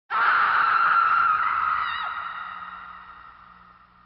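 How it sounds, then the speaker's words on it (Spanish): A single long, high-pitched scream rings out loud and close, then slowly trails off over several seconds, with no talking. "Los gritos."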